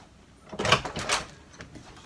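An apartment door is opened for a delivery in Montreal: two soft, muffled bursts of a handle and latch moving, fairly quiet against a faint room hush.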